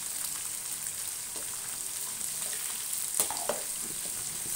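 Garlic, green chillies and coriander leaves sizzle in a frying pan, a soft steady crackle with a couple of stirring clinks toward the end, moderately quiet, with no talking.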